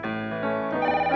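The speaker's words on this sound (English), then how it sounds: "Oh no, there's the phone." A telephone rings in a kitchen scene of an educational cartoon about food safety, a continuous bright electronic ring sounding loud and close, alone without speech.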